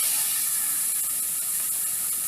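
Sweet peppers hiss in a hot pan on the stove, a close, steady steamy sizzle that stays constant over the short span.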